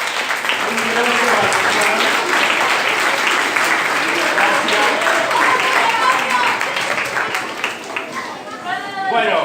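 Sustained applause from a classroom audience at a national youth math competition in Argentina, dense clapping with mixed voices and chatter running throughout, loud and close for nearly ten seconds before thinning slightly at the end.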